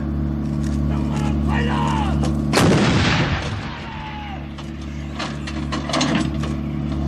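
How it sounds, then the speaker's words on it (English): Self-propelled artillery gun with an automatic loading system fires a burst: a loud, sharp blast with rumbling decay over constant low mechanical hum and clanking loading mechanisms, heard in the open without talk. "The gun will now fire 3 rounds in area diamond."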